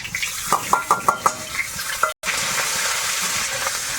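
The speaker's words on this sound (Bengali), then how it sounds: "একটু গোটা জিরে দিলাম তেলের মধ্যে আর কাঁচা লঙ্কা আর আদা" Whole cumin seeds, green chilli and ginger frying in hot oil, a steady sizzle with several sharp clinks of a utensil against the pan near the start.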